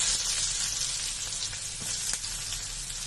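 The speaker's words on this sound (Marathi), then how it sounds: "आता गॅस मी स्लो करते आणि हा बारीक चिरून घेतलेले कांदे आहेत ते घालून घेते." Finely chopped onions hit hot oil in a pan on a lowered flame, giving a steady, dense, crackling sizzle that stays even and close throughout, with no voices.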